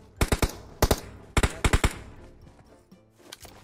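Gunfire in the mobile battle royale game PUBG Mobile: loud, close clusters of rapid shots in short bursts of two or three, followed by fainter background game noise.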